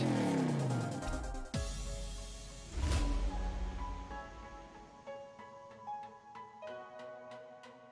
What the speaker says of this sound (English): Racer, start your engine.